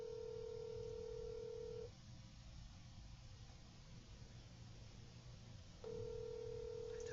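Telephone line tone sounds loud and steady, cuts out for a few seconds, then returns just as loud, from a handset held close with faint background hiss.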